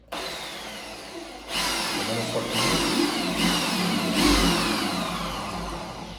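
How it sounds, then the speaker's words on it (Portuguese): An electric drill starts boring slowly into a wall at a marked spot while a wall mirror is being installed. After a quiet start, it runs in loud, rising whirring bursts that continue to the end. "eu vou colocar a nossa furadeira lá onde a gente marcou certinho a ponta da broca, tá? E vou começar bem devagarzinho"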